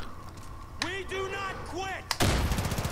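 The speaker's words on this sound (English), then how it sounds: "Where are they shooting me?" Gunfire in the Far Cry 5 video game, sharp shots breaking over someone talking, then a heavy blast into rapid continuous firing at the end.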